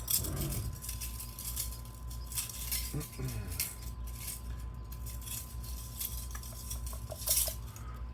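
Metal fishing spoon lures clink and rattle against each other close by, a jumble of bright jangling hits with a few sharper knocks, while a steady low background hum runs underneath.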